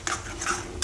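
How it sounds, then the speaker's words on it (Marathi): Spice masala stirred in a pan with a spoon, short scraping and clinking strokes close by, no talking. "आता हा मसाला तेल सुटेपर्यंत चांगला परतवून घ्यायचा आहे."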